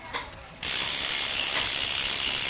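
The freewheel hub ratchet on a JAVA racing bicycle clicks in a rapid, dense, even buzz that starts abruptly after a quiet moment and carries on steadily, close and clear.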